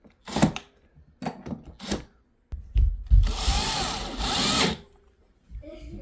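A power drill driving screws into the plastic case of an Alesis Recital Pro keyboard, several short whirring bursts followed by one longer, louder run with pauses in between.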